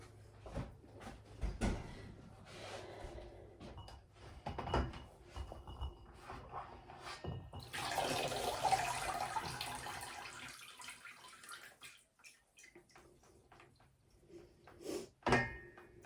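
Homemade apple cider vinegar is strained, with liquid pouring and splashing in a steady rush midway, surrounded by clunks and knocks of containers and utensils in a kitchen.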